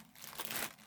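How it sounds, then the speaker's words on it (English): A Blythe doll being pulled out of a plastic bag, a brief, faint rustle and crinkle of thin plastic lasting under a second, close by. "Let's get you out of this plastic bag, Missy."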